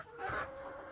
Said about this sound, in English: Now this is my extra rooster right here.